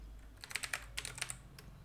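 A computer keyboard is tapped in a quick short run of crisp keystrokes while a command is typed, close and fairly quiet with no talking.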